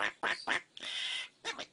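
A pet bird quacks like a duck, close and clear, in a few short bursts: two or three quick quacks, one longer drawn-out call, then a final pair.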